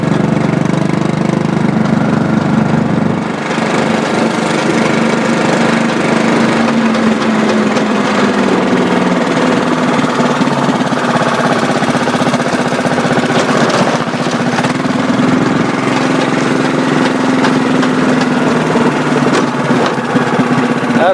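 A vehicle engine drones steadily as it is driven around a course, loud and close throughout, its pitch rising and falling gently with throttle over a long stretch.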